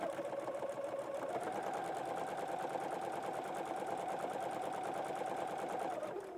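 A sewing machine runs steadily for the whole stretch, chain stitching strips of fabric in one continuous fast rhythmic whir, close and even, then slows and stops right at the end.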